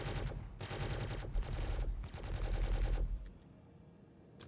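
Rapid automatic gunfire in a multiplayer shooter video game, sustained bursts close and loud for about three seconds with a brief gap, then fading to quiet.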